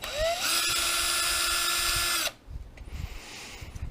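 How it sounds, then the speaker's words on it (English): A power driver whines at high speed for about two seconds while backing a screw out of a Traxxas Slash LCG Platinum RC car, then cuts off abruptly, leaving faint handling noises. "But you're going to have this screw right here you need to take off."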